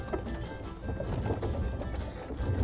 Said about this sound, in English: there's a big difference between sitting in the saddle and controlling a horse and sitting behind and driving two horses.